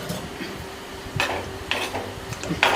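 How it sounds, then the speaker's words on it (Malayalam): Ash gourd buttermilk curry is stirred in a pot, giving a few soft scrapes and clinks against a low background hiss. "നമുക്കൊന്ന് ഇളക്കി കൊടുക്കാം."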